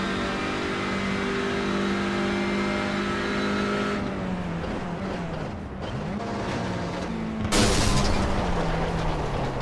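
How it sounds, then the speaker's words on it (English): A TCR race car engine drones loudly through qualifying, then the note drops away and a sharp bang with a broadband rush erupts near the end as the engine blows. "That's normally the engine's gone sound."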